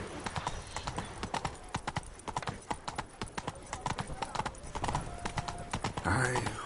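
Roach the horse clip-clops in The Witcher 3, steady quick hoofbeats over game sound, with a voice talking and a brief louder sound at the end.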